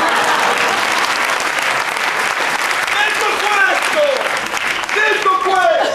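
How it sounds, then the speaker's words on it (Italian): A crowd applauds loudly and steadily, clapping sustained throughout, with voices calling out over it toward the end. "un applauso alla prima fila per tutti"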